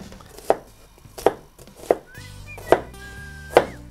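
A knife slices an onion on a cutting board for bonito encebollado, five crisp close chops spaced about a second apart in a quiet kitchen, with no voices.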